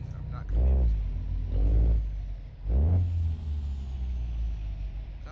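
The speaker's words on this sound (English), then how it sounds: "this truck sounds really, really good" A deep truck engine in American Truck Simulator, hauling a heavy load, rumbles steadily, with heavy low surges as it revs up and settles back, while a voice talks over it.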